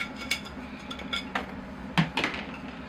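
Metal wire being pulled and snipped from the drainage screens of a bonsai pot, a series of sharp clinks and metallic taps at irregular intervals, close and fairly quiet.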